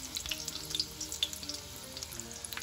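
Quiet, steady sizzling of food frying in a pan, with small crackles and pops scattered throughout.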